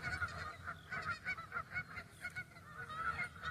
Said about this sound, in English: now they're greeting fellow geese